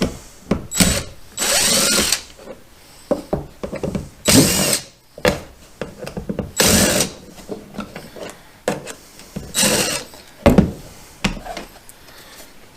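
A power tool works at removing the Hobie Lowrance Ready mounting plate from a 2018 Hobie Pro Angler kayak, in short loud bursts of whirring and rasping separated by brief pauses, fairly close.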